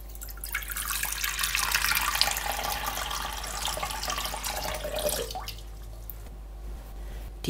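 Cold water pours steadily into a bowl holding a teaspoon of dry yeast, a close, continuous splashing rush that tapers off after about five seconds into a quiet trickle.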